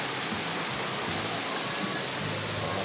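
River water flowing toward Estrella Falls in Narra, Palawan, a steady broadband rush that stays even and close throughout with no talking.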